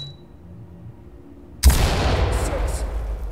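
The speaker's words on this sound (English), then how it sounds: "Open clear with flashbangs." A flashbang grenade detonates in the tactical shooter Ready Or Not. After quiet, a sudden loud bang is followed by a sustained ringing roar that lasts to the end.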